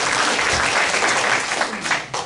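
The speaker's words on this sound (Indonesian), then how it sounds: "Berikan tepuk tangan bagi kita." Brief burst of congregation applause in a church service, loud and dense clapping filling the room throughout.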